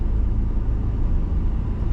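Car engine rumbling steadily from inside the vehicle as a learner driver presses the gas pedal in traffic, a continuous low drone with no talk.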